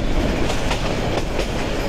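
A Balaka commuter train of Bangladesh Railway runs along the tracks beside a road, a loud, steady rumble with rhythmic clickety-clack wheel beats repeating roughly every half second.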